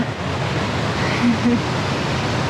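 A steady, broadband rush of falling water fills the clip, constant and fairly loud with no pauses, like a waterfall heard from close by.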